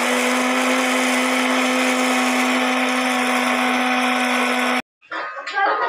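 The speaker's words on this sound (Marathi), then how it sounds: "आता आपण बारीक करूया. जास्त बारीक नाही करायचं" A mixer grinder coarsely grinds a cooled lemon pickle mixture, a loud steady motor whine with a constant hum, running for almost five seconds before stopping abruptly, followed by a brief rattle and clatter.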